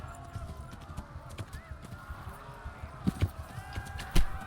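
Horse hooves clopping at a steady gallop in Kingdom Come: Deliverance, a rhythmic run of thuds under game ambience with a couple of louder hits near the end, while a voice talks over it.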